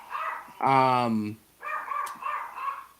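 Dog gives one loud, drawn-out bark or yelp close to the microphone, followed by a voice talking.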